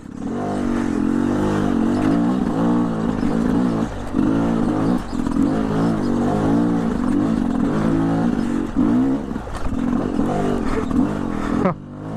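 Dirt bike engine revving hard and steadily as the rider gives it gas, the rear tire sliding on rock, with brief clattering and scraping underneath, loud and close throughout.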